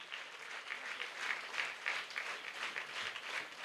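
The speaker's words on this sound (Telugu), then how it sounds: "గట్టిగా చప్పట్లు కొట్టాలి." A church congregation at a novena service in Gunadala, Vijayawada applauds loudly, a dense steady wash of many hands clapping that holds throughout with no voices over it.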